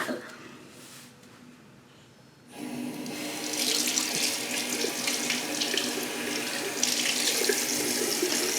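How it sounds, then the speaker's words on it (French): A tap turns on and water runs steadily into a sink while someone washes their face, with a quiet start followed by a continuous close splashing rush and no talk. "Se laver la face."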